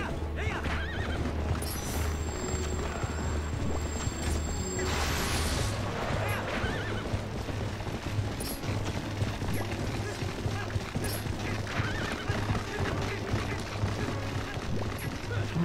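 In Zelda Twilight Princess HD on Wii U, a horse whinnies loudly and gallops at Hyrule Castle. Rapid hoofbeats run continuously beneath clashing game effects and a busy, dense mix.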